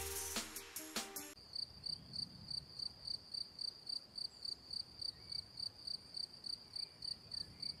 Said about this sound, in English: The cricket doesn't bite or sting, nor is it considered a pest but the sound can be very annoying